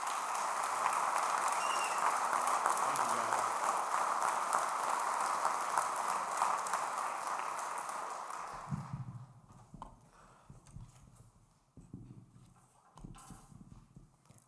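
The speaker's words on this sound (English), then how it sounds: "Let's give these students one more round of applause." An audience at a middle school grade 7/8 band concert applauds the student musicians, a thick wash of clapping that holds steady, then tapers off and gives way to scattered quieter sounds.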